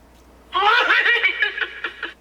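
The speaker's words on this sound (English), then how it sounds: "Fantastic boot sounds, lots of them on this guy." A Dagobah Yoda-themed Neopixel lightsaber plays its boot sound effect: a short, close, giggling Yoda-style voice sample lasting about a second and a half, rising suddenly out of quiet and trailing off in choppy bursts.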